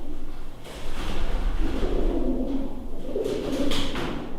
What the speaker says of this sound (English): the ominous calling of what sounds like pigeons somewhere above the explorers